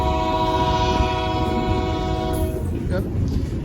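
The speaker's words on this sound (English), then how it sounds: "I actually did try to recreate this exact train route on Train Simulator" Train horn blaring over the steady rumble of a rolling train in the video game Train Simulator, a long sustained tonal blast that fades near the end, with a brief spoken word.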